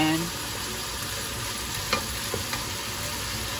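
Vegetables being stirred in a frying pan with soy sauce for a Japanese yasai itame stir-fry, a steady sizzle with a few soft scrapes and clicks of the utensil.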